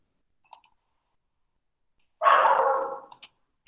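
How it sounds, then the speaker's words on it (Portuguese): A small dog gives one sustained, strained bark or yelp of about a second, framed by a few faint clicks, in an otherwise quiet room. "Tem um cachorrinho aqui que não para de latir."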